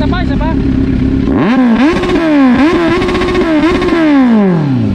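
A Kawasaki Z1000 motorcycle at a cycle shop revs hard several times nearby, its pitch climbing and falling in repeated swoops over a steady idle, with people talking over it.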